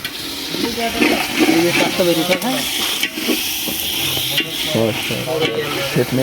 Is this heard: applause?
no